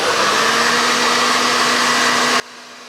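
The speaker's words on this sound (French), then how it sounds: "je viens poser le diffuseur en dessous de mes pointes" A hair dryer fitted with a diffuser blows a steady, loud whoosh while drying curly 3B hair, running continuously before cutting off abruptly near the end.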